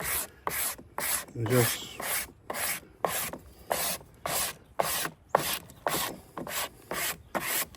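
A squeegee rubs a decal onto a pickup truck's sliding glass window in about a dozen evenly spaced, close rasping strokes. A brief word or two is spoken.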